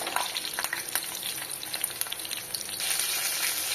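Seven green chillies for coriander thuvaiyal fry in a pan with a loud, close, crackling sizzle that swells slightly toward the end, punctuated by stirring, with no voices.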